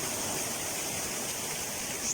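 Floodwater rushes through the streets during a severe storm in Veles, North Macedonia: a steady, dense roar of flowing water, loud and unbroken throughout, with no voices.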